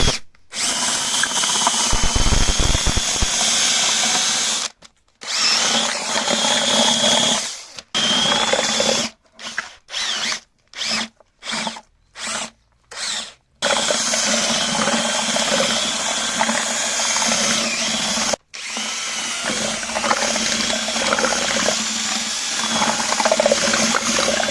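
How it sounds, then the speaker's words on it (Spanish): A whisk churning lime paste with marble powder into a thick limewash base, a steady mechanical whirring and rattling that runs almost continuously, broken by a burst of short stop-start pulses midway. "Con este batidor bato primero para que no se me generen grumos y después agrego el agua."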